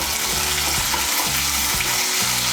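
Ginger and green chili paste fries in oil for a fish curry with cauliflower, a dense continuous sizzle broken by regular stirring scrapes.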